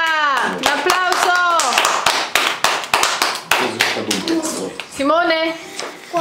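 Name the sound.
applause after a child's Easter poem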